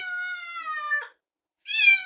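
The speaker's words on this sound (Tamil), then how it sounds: "மியாவ் மியாவ் பூனைக்குட்டி" A kitten gives two high, drawn-out meows separated by a brief silence, clear and close with nothing else around them.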